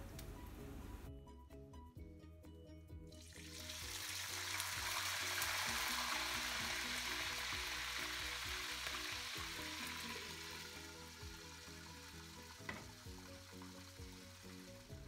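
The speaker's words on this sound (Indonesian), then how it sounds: "sekarang saya mau goreng ati rempela." Oil sizzles and crackles steadily as chicken liver and gizzards fry in a pan, a continuous hiss with occasional pops and faint clinks.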